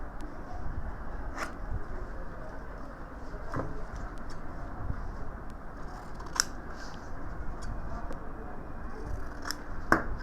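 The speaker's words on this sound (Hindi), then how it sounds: "इसको बिल्कुल निशान लगा के बराबर काटें।" Scissors snipping through buckram interlining for the cuffs of a men's suit, a few sparse crisp cuts spaced out over quiet room noise, close and fairly faint.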